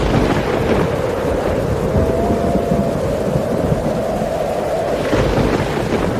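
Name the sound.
heavy rain with thunder in cartoon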